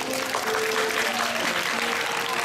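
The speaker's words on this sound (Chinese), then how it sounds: "让我们以掌声欢迎他" Sustained audience applause at a graduation-trip evening party, a dense steady wash of clapping from a crowd welcoming a student to the stage, with faint tonal hum beneath.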